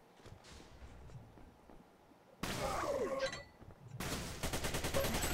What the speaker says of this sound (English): So I'm trying to blast Ungrateful Dead up there with the shotgun